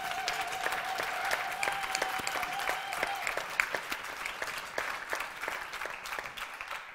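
Live concert audience at the NEF in Saint-Dié applauding steadily for the light and sound crew, a dense, sustained wash of clapping with a brief tone running through the first few seconds.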